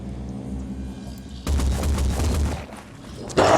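Acid weapon shots fire in the video game Phoenix Point: a loud burst of booming shots after a low humming lead-in, then a second sharp impact near the end. No one speaks.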